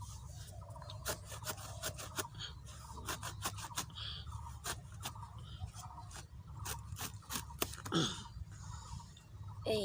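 A knife works through a raw green jackfruit with a quick series of rasping, scraping cuts, close and moderately loud over a steady low background hum.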